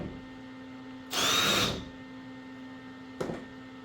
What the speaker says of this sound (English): Gotta get these screws worked out of here.